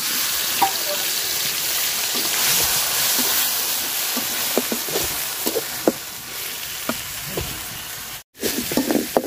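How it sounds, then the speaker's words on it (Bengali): Crushed onion, chili and garlic masala frying in a pan of oil, a steady loud sizzle with occasional crackles and scraping stirs, no talking. "মশলাটা আমি সুন্দর করে ভাজা নিচ্ছি"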